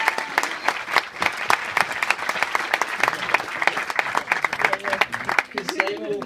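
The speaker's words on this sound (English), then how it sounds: "Hand of applause, please." Wedding guests give a hand of applause to the bridesmaids and groomsmen: crisp, close clapping from a modest crowd, with a few voices surfacing as it winds down.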